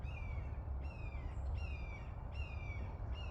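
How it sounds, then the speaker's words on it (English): An unseen bird somewhere in the back trees gives a series of harsh, descending squawking calls, four in steady rhythm, over a low outdoor rumble. "One day I'm gonna find out what bird that is."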